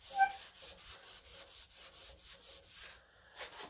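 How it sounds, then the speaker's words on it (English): A motorcycle fork being sanded by hand with sandpaper: a steady run of rhythmic rubbing strokes, about three per second, close and fairly quiet, with a brief pause before a final stroke. "basically sand until you feel like the sandpaper's not doing anything anymore"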